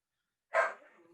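A dog lets out a single short bark after a moment of silence, sharp at the onset and trailing off quickly.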